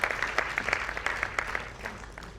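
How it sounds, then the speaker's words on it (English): Conference audience at a Uganda SDG event applauding, a steady even patter of many hands at moderate distance with no speech over it. "Can we give another round of applause?"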